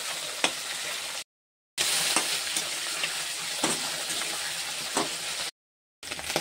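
Tengra fish fry in hot oil with a steady, close crackling sizzle and occasional stirring scrapes, broken by two brief silent gaps.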